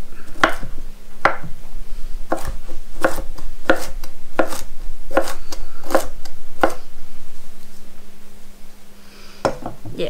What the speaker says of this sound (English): with the cauliflower, you just kind of want to give it a rough chop because it's really crumbly